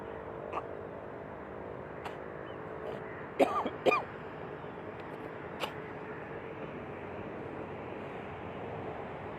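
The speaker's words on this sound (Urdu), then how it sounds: "گلا صاف کیا ذرا" Someone clears their throat during a guided relaxation exercise, two short rough bursts close together in the middle, with a few faint clicks around them against a quiet background hum.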